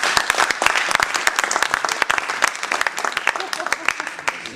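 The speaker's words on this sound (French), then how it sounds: "je crois qu'on peut s'applaudir" A group applauds itself after a campaign in Saintes: dense, steady clapping from many hands, fairly close and loud, running the whole time with no pauses.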